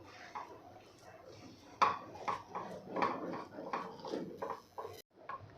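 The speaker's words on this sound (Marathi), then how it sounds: "आता यामध्ये घालायचं आहे आपल्याला इथे ओलं खोबरं आता हे सुद्धा सगळं आपण मिक्स करून घेऊ" A spoon stirs freshly grated wet coconut into thick, cooked semolina in a pot, giving a steady run of close scraping strokes with several sharper metallic knocks against the pot's side, with no voices.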